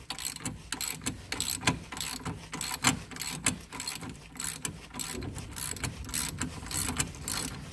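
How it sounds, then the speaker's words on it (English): An 18mm ratchet works loose the front hub bolt on a 2005 Renault Clio, giving a close, fast run of dry clicking pawl ticks in quick bursts, steady and without voices. "Put the 18mm ratchet back on."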